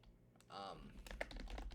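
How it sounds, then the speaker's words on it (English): Keys clatter on a computer keyboard in quick, uneven taps, heard close while a voice talks over the typing. "Hopefully you guys can't hear me typing too loudly, right?"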